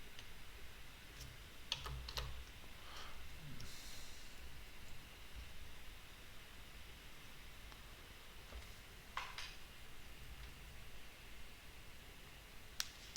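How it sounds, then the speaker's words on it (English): Quiet, faint clicks of keys being tapped, sparse and irregular, against a soft steady background hiss. "I'm typing."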